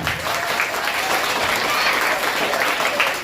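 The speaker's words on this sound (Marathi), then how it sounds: "या सर्व मावळ्यांसाठी आपण इथं जोरात टाळ्या वाजवायच्या." A crowd claps loudly and continuously at a school event, dense steady applause filling the whole moment without a break.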